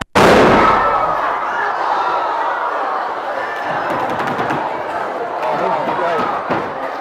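A balloon bursts with one sudden loud bang in a chemistry demonstration at a university Christmas science lecture, followed by a lingering audience murmur and reaction in the hall.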